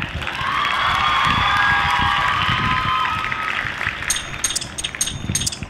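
Audience cheering and clapping rise together as a welcome, a loud sustained crowd roar with whoops that gives way to scattered claps and shouts toward the end.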